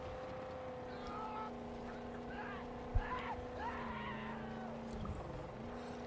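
A heavily loaded scrap-transport vehicle driving in the Mad Max video game, its engine a steady, droning hum with a brief thump midway, while someone talks over it.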